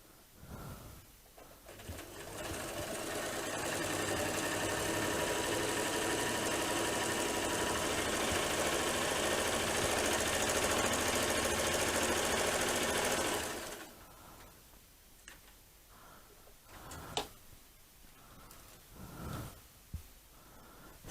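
A sewing machine runs continuously for about twelve seconds during free motion quilting, a steady fast whirring stitch rhythm, then stops, leaving faint handling rustles and small clicks.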